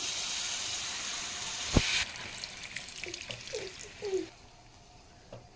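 Tamarind extract pours steadily into a simmering dried fish curry, a continuous liquid splash and trickle with a few small bubbling plops near the end, close and moderately loud.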